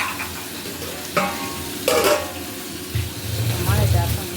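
Leafy greens (shak) fry in a pan while being stirred, with sharp scraping stirs and bursts of sizzle over a low background hiss, and a voice heard now and then.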